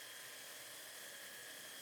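A steady, high-pitched whine and rasp of a belt sander running continuously against a wooden cutting board, even in level with no pauses.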